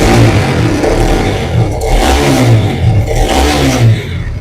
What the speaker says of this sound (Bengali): গাড়িটার কন্ডিশন আর সাউন্ডটা শোনো একবার